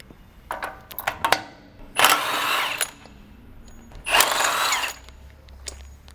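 Two short bursts of a power socket tool spin while opening the hopper of an HP20T4 pump, separated by clicks and clunks of handling.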